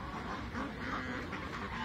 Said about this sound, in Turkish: bir ördek kavgası orada vardı